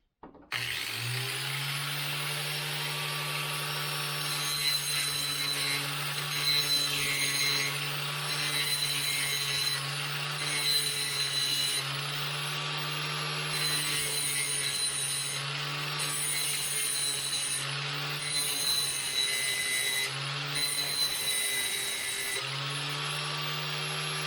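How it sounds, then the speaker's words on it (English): A Harbor Freight 4-inch angle grinder grinds down the peened edge of a nut on a 2000 Honda CR125R rear shock, whining loud and continuous for over twenty seconds with rising and falling pressure as it bites into the metal. "We actually have to grind this edge until we can get this nut off. Since I don't have a bench grinder, my Harbor Freight 4-inch angle grinder will do the trick."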